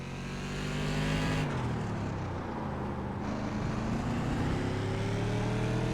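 Race cars on a short oval bullring in iRacing roar loudly and continuously, engine pitch climbing and dropping as they accelerate and lift, with another car's engine note passing close by.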